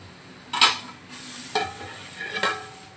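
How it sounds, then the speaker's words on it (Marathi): A pot of Kolhapuri-style chicken masala curry bubbles with a steady hiss, broken by a few sharp scraping strokes of a spoon against the pot, close and with no talking. "हे बघा छानपैकी याला उकळी आलेली आहे"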